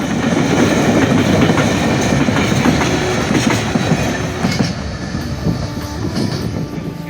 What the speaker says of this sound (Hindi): ये रेलवे स्टेशन जेठा भुट्टा।